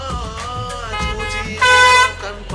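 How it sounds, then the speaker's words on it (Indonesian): Vehicle horns blare in a busy industrial port district of North Jakarta, with container trucks around: a continuous layered honking, one loud sustained blast rising over the rest partway through. "Kupingku belajar kebal sama suara klakson yang gak ada berhentinya"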